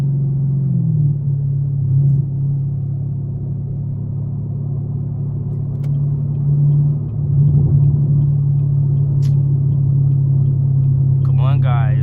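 Straight-piped Chevrolet Camaro SS engine idling and creeping through 4 PM traffic, a steady deep exhaust rumble throughout with a brief swell near the end, heard close from inside the car.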